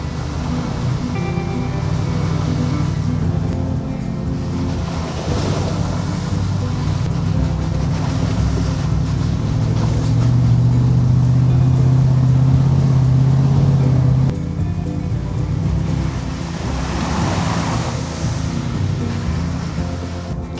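Car driving on a gravel road in Black River State Forest, a steady loud rolling rumble with tire crunch throughout, swelling slightly midway, heard from inside the vehicle.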